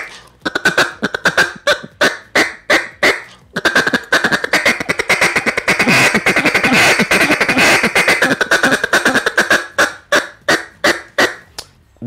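A handheld duck call blown in a steady run of rapid clucks and chatter, loud and close, with short quacking bursts that string into a nearly continuous rolling cadence before breaking back into separate notes.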